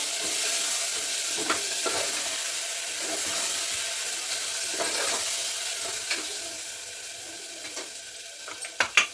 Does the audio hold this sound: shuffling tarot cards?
no